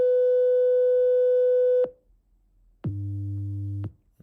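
A synthesized 100 Hz test tone sounds as a steady, low hum for about one second, following an earlier higher pure tone and a short pause, with nothing else heard.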